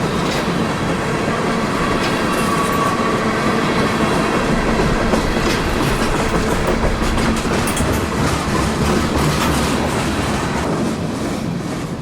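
Freight train Q606 on a New Orleans to Waycross run, hauling mixed merchandise cars, rumbles steadily past close by, with continuous wheel noise and clickety-clack over the rails and no talking.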